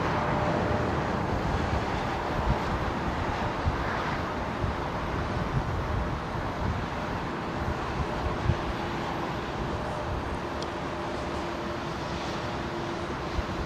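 A Singapore Airlines airliner flies near Heathrow Airport, its broad, steady jet roar rumbling continuously and fairly evenly, as if passing at a moderate distance, with no talk over it.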